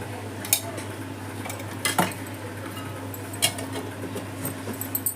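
A spoon clinks against a pot while ghee goes into sago and sweet corn payasam, giving a few sharp metallic taps and scrapes over a low steady hum, with no voices.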